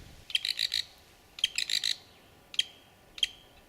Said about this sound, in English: The black-backed woodpecker is now the poster child for severely burned forests.